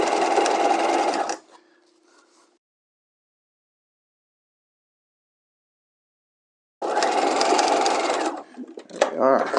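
A sewing machine stitches the outer shell fashion fabric of a structured bodice in two close, steady bursts, with a long silent pause between them.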